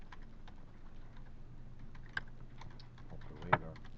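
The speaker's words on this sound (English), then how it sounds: "If we go to Google and simply type" Soft, steady typing of a search on a computer keyboard, quick light key clicks at a close, quiet level, with a couple of slightly louder taps and a low electrical hum underneath.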